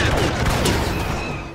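Rapid burst of blaster rifle secondary fire in Star Wars Battlefront, a loud, dense crackling volley up close that fades slightly at the end.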